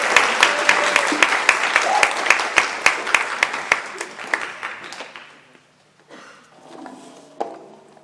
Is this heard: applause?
yes